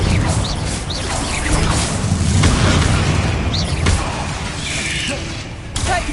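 Confringo blasting spells explode one after another in a Harry Potter video game, booming bursts with crackling debris over a constant rumbling bed. The blasts are loud and close.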